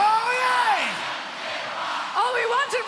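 A concert crowd roars during a live performance, a dense, steady wall of cheering laced with whoops and drawn-out yells. It stays loud and close throughout, swelling again toward the end.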